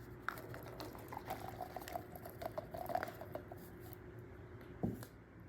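Drained canned pink beans slide into a crockpot with soft, wet patters and faint clicks, quiet and close, ending in a small thud.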